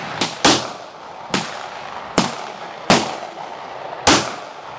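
Six loud, sharp pistol shots ring out at an outdoor shooting range at uneven intervals, each a hard crack followed by a short echoing tail.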